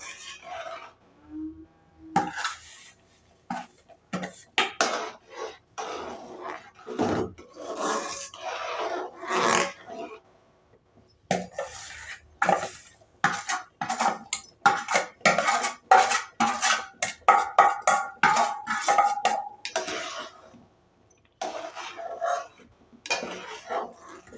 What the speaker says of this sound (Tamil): சிம்மில் வச்சே நல்லா கிளறி விடுங்க, இல்லாட்டா கட்டி ஆயிடும்.